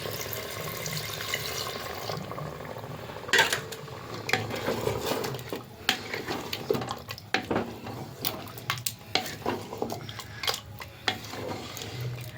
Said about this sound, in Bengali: এই যে মশলা বাটা জলটা দিয়ে দিচ্ছি